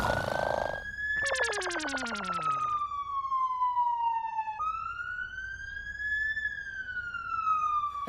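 A mobile phone ringtone imitates a fire brigade siren, with a sharp warbling burst followed by long rising and falling electronic wails. The tone is clear and steady and plays alone, with no talking over it.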